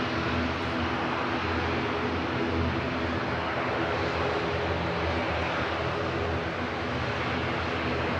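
Twin-propeller airliner at Manchester Airport gives a steady, loud broadband engine roar that holds evenly throughout with no break.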